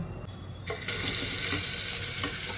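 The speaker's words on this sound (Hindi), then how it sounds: "पहले मटर फ्राई करेंगे, फिर आलू फ्राई करेंगे।" Peas frying in hot oil inside a pressure cooker, a soft hiss that rises into a steady, loud sizzle after the first second and runs continuously to the end, with no talk.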